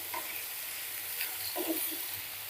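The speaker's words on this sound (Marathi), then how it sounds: "आता इथे ना थोडंसं मीडियम फ्लेमवर 1 ते 2 मिनिटं ना ही फरसबी परतून घ्यायची आहे तेलावर" Green beans and potato sautéing in oil on a medium flame make a soft, steady hiss, with a few faint scraping stirs in between and no speech.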